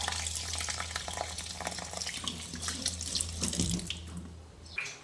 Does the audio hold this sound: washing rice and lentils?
yes